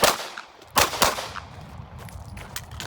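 Several Glock 45 pistol shots at an outdoor shooting range: a quick cluster of sharp, loud cracks, a short pause, then two more bursts, with fainter pops and echoes trailing after.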